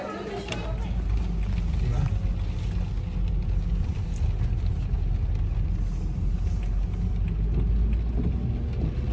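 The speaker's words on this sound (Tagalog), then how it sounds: "Oh, traffic na." Steady road traffic from cars driving home from a mall, a continuous low rumble of engines and tyres from inside a moving vehicle, loud and unbroken throughout.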